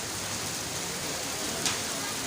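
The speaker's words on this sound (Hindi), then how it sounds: "काफ़ी तेज़ बारिश और ऐसी बारिश जिसकी तमन्ना आवाम कर रही थी।" Heavy pre-monsoon rain pours down steadily in Taxila, a dense, even hiss of downpour filling the whole moment without pause.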